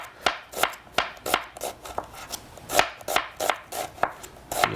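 Knife chopping an onion on a board for rustic tomato soup, a steady run of about twenty sharp, close strikes with a quick, fairly even rhythm and no voices.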